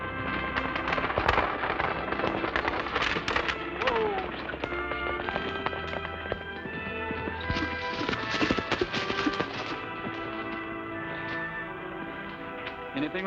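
Horses pulling a stagecoach clip-clop steadily along under a dense, busy mix of other sounds, with loud, continuous activity throughout.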